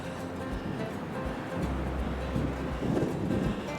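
Gusts of coastal wind along the Great Ocean Road in Australia buffet the microphone with a low, rumbling roar that surges and eases over a few seconds, with no one speaking.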